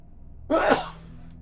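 A single sneeze from a character in the Enderal fantasy role-playing game, a sharp close burst rising and fading within about half a second against a quiet background.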